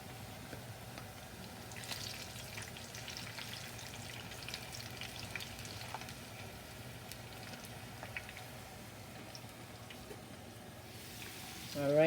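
Garlic shrimp fry in a pan with a steady, even sizzle that holds at a moderate level throughout, rising slightly louder at the very end.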